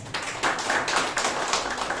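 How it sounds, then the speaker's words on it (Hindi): Congregation at a Christian worship service clapping together in a loud, dense burst of applause nearby, with short swells and no talking. "ताली बजाएंगे"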